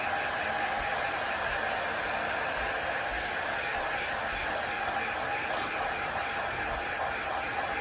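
Hair dryer blowing on a watercolor painting to speed drying, a steady, fairly quiet whooshing hiss of airflow that runs continuously without breaks and without talk.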